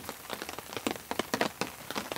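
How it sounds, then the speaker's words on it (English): Rain patters on a tent at a campsite, with soft, irregular drops tapping close by on the fabric at a steady, quiet level and no talking. "Just some nice, good rain falling down"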